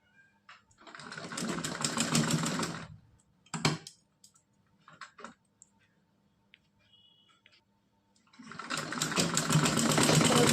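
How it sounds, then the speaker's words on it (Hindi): An electric sewing machine stitches a net dress in two steady whirring bursts of about two seconds each, with quiet handling clicks and pauses between them. "यहाँ से हम सिलाई लगाएंगे।"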